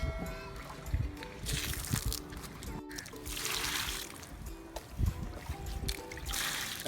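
Leftover water is emptied out of a drum onto a rooftop during concrete grounding work, giving irregular splashing and trickling bursts close by over a busy, noisy background.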